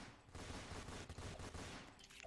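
A machine gun fires in the Roblox game Fortnite Simulator, a rapid, continuous burst of loud shots lasting about two seconds with no voices.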